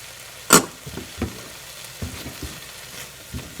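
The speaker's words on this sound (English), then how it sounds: "And I just kind of mix it in with my beef, just kind of add some flavor." Ground meat sprinkled with spices fries in a hot pan. A sharp clack of the utensil opens a quiet sizzle, and a few soft scrapes and taps follow as it is mixed.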